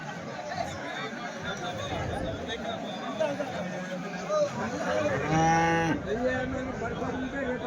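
Cattle at a Sunday cow market in Chintamani, with a clear, nearby moo rising above the steady chatter and murmur of a crowd of traders and buyers talking throughout.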